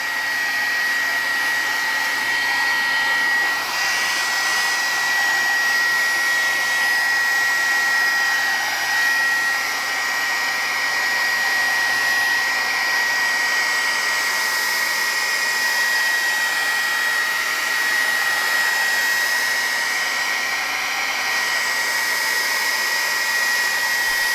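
A hair dryer blows steadily and continuously on gray mixed media paste, a cement-like glue mixture on a collage, holding a loud, even whoosh throughout with no talking.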